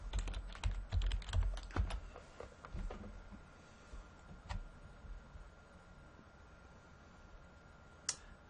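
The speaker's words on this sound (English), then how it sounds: "you're going to type in your user, KCTCS user ID," Quick keystrokes tap on a computer keyboard while a user ID and password are typed in, a fast cluster of clicks at first, then sparser taps and a final isolated click; close and fairly quiet.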